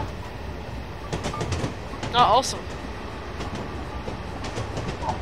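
A train in Train Simulator 2013 rolls with a steady rumbling run and faint rail clatter, a brief squeal near the middle, while players chat over it.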